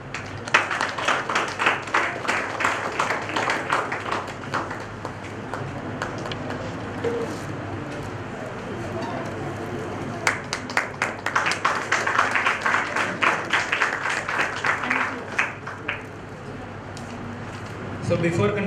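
A round of applause in a conference hall at a morning conference session, steady clapping from the audience that swells and fades across the clip, with voices murmuring underneath.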